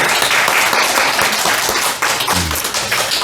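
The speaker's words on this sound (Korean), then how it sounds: "하나님께 감사와 영광의 박수 올려드리겠습니다" A church congregation applauds during a worship service, dense hand clapping that holds steady throughout the short moment, with a faint voice briefly underneath.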